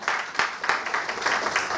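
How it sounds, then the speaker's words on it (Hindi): Audience applause greeting a speaker at a business presentation, a dense steady wash of many hands clapping at moderate loudness with slight surges, no talk over it. "जोरदार तालियों से आपका अगेन एक बार स्वागत।"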